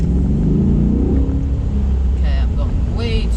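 Deep, loud engine rumble from a 2021 Chevrolet Corvette C8 heard from inside the cabin, a sustained roar with rising tone as the car pulls, with brief vocal sounds near the end.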